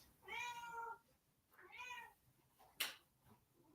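A cat meows twice, close and clear, followed by a brief sharp click; otherwise quiet.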